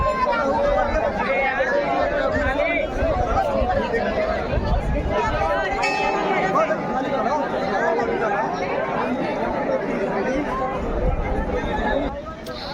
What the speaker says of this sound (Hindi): भाई मंदिर पे भीड़ देखो ज़रा भक्तों की।